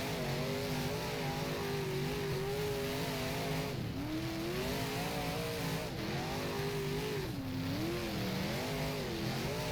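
A 358 modified race car engine in the rFactor racing game, droning loud and continuous as it revs up and down through the corners in repeated rising and falling sweeps.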